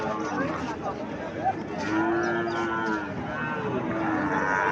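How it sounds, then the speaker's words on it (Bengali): A bull calf mooing at a busy cattle market, long low drawn-out moos over a constant crowd murmur and other livestock noise, moderately loud and near. "এখানে একটা সার বাছুর দেখা যাচ্ছে"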